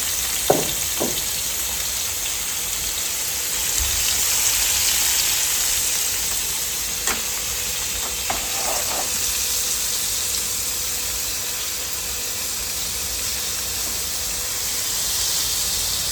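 Paneer frying a little at a time in hot oil, a loud, continuous hissing sizzle nearby with a few faint clicks and taps scattered through it, no talking.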